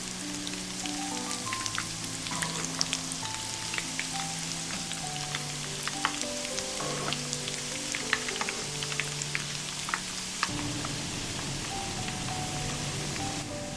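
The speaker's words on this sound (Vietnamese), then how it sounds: "Rồi mình hạ lửa vừa và cho bánh vào chiên" Dough cakes made with butter frying in hot oil in a pan over medium heat, a steady crackling sizzle with dense popping bubbles throughout, close and continuous, with faint background tones.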